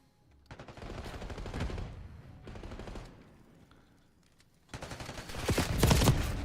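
Bursts of rapid automatic gunfire in a Call of Duty Hardpoint match, loud, close and clipped: two rattling volleys, a short pause, then a longer, heavier burst of fire to the end.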